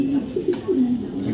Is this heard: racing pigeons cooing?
yes